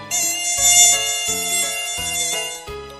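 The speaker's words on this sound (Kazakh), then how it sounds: "Маса." A mosquito buzzes with a thin, steady high whine that runs through the whole moment over a simple stepping background tune, with no voices.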